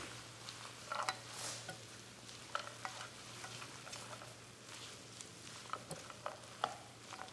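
Cashews being stirred into sesame aubergine noodles in a pan, giving soft scraping and tapping strokes over a quiet, steady sizzle and low hum, faint and close without talk.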